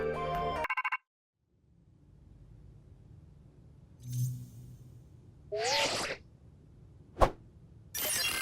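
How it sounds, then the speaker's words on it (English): In a Pokémon Legends Z-A trailer, a phone glitches: a burst of tones cuts off abruptly, then a low hum, a faint rising warble, a sharp distorted electronic sweep, a single loud snap and another harsh burst of static. "There's weird sounds, the phone glitches."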